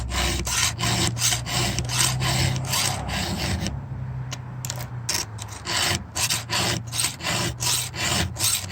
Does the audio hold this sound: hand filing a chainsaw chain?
yes